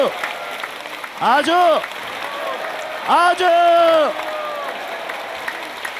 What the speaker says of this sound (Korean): 이렇게 열심히 박수를 치다 보니까